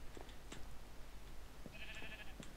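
Faint sheep bleats in a Minecraft server world, a few short calls at moments over low background noise.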